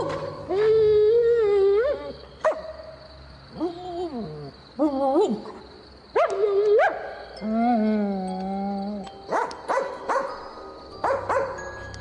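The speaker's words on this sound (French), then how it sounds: "Je suis poursuivi par un chien!" A dog gives chase, letting out a loud, close series of drawn-out howling whines broken by short, sharp barks, with brief pauses between bursts.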